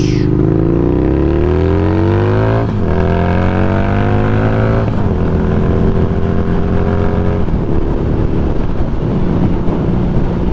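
A motorcycle engine revs up through several gears on a highway in the Grand Tetons, pitch climbing and dropping with each shift, loud and close against steady wind rush.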